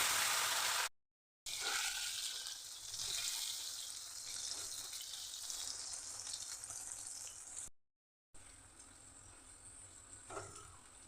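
Potato pieces, salted and coated with turmeric, fry in mustard oil in a kadai, giving a steady broad sizzle that lasts throughout, with two short cuts to silence and no voices.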